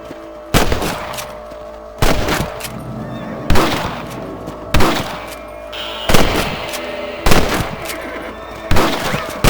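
Rifle shots in Red Dead Redemption, about seven loud, sharp cracks spaced roughly a second and a half apart, each with a short echoing tail.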